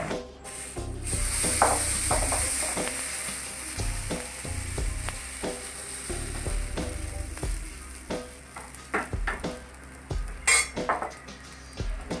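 Semolina oothappam (rava dosa) sizzling in a pan as it is lifted onto a plate, with steady frying hiss under repeated sharp clinks and scrapes of a metal spatula against the pan and dish.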